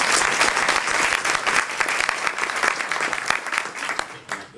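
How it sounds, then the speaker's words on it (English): Applause from the audience at a 2014 Middlesex County district attorney debate: steady, dense clapping that holds fairly loud and even for several seconds before thinning slightly at the end, with no voices over it. "Mary Jo, a round of applause."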